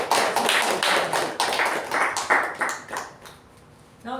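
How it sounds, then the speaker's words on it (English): A Toastmasters meeting audience claps in a dense, steady round of applause that fades out near the end, followed by a brief noise at the very close. "And a huge round of applause for our table topic"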